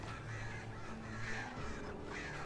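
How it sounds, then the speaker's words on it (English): Crows caw in the video game Alan Wake, a dense, continuous flock of harsh calls layered over a steady background, with no talking. "Oh, that's a lot of birds."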